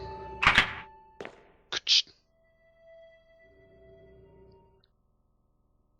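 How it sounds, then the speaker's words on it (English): A lever pulled to release door locks in the Resident Evil game's Arklay Laboratory makes a heavy thunk, then a smaller knock and two quick sharp clacks, followed by a quiet electronic tone and low hum. "Just pulling all the locks."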